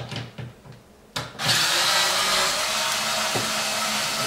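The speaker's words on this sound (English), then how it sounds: "pulling the factory screws out of the factory splitter" A power drill backs out the factory screws from a car's factory front splitter: a few light clicks, then a sudden loud, steady motor whine that holds close and continuous to the end.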